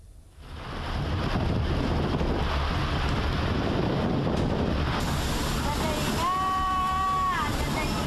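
Strong wind with heavy rain in Pematang Sawah, Tanggamus, Lampung, a loud, steady roar buffeting the microphone without a break.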